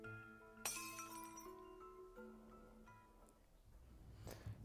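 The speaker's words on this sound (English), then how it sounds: "we hear the shatter of glass" Glass shatters in the visual novel Cinderella Phenomenon: a sharp crash, then ringing, tinkling shards that fade over several seconds, followed by a softer rustle near the end.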